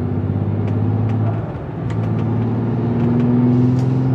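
Bentley Mansory engine idling unevenly with a fault, a steady low rumble that dips briefly, then swells again, close and continuous with no talk.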